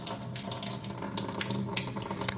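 Water runs in a steady, gentle stream from the dedicated faucet of an under-counter alkaline water ionizer into a sink, faint and close, with small splashes and clinks over the flow and no talking.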